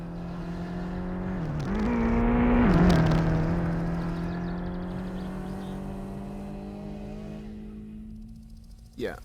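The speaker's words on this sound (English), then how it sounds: "I hear another car." A car in the video game My Summer Car passes by, its engine drone rising in pitch and loudness as it approaches, then shifting as it goes by and fading into a long, steady hum.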